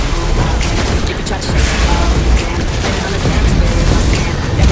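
Weapons fire at enemy weak points in a post-apocalyptic survival shooter video game. A dense, loud, continuous barrage of booming shots and mechanical clatter fills the whole stretch up close, with no clear pauses.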